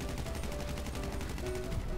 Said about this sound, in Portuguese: Rafa tá jogando de ponto 50, ele dá um tiro e mata, mano